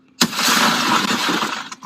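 A car window is smashed by agents during an arrest, a sudden loud crack of breaking glass followed by a sustained crunching shatter and rattle that fades near the end.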